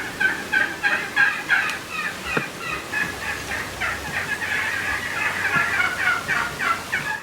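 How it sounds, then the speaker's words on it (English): Wild turkey toms gobble and cluck in a Nebraska cornfield, with many overlapping calls repeating steadily at middle distance across the whole stretch. "Look at all of these magnificent birds piling into the cornfield, including several great toms."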